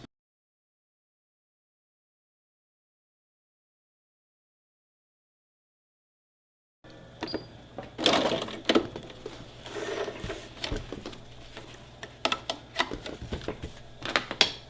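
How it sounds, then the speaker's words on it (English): A sewing machine stitching a zigzag around a fabric piece for a tote and visor set. After about seven seconds of silence, it sets up a steady close hum with a rapid, rhythmic clatter. "You're going to squish this up against it and sew a zigzag all the way around on this piece."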